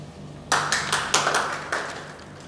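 Audience applause: a short burst of clapping begins abruptly and continues for about two seconds in uneven waves, moderately distant and fairly quiet, with no talking over it.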